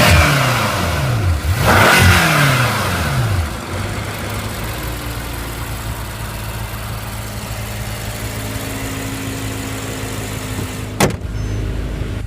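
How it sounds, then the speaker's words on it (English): A 2014 BMW M5 F10 sits idling with a steady engine hum while its power windows whir briefly early on, then the idle drones on steadily and ends with a sharp click. "All four windows are fully automatic."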